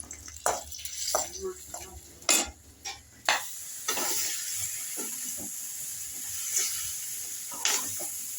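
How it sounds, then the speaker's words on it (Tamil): Country chicken curry sizzles in a pan with stirring scrapes and clatter, steady hiss throughout, with a few brief voices in the background. "நல்லா ஜம்முன்னு வறுக்கிறாங்க"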